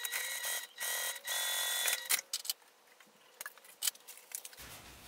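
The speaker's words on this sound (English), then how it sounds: "whenever I sew it, I'm just going to sew an eighth of an inch away" A sewing machine top stitches a fabric slip pocket for a car caddy, giving quiet whirring bursts of a few seconds each, separated by pauses and small clicks and handling noises.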